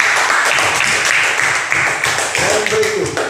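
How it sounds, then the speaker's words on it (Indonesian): A classroom of children claps together, a fast, busy patter of small hands, close and fairly loud, with a voice speaking over the end. "Tepuk tangan dulu"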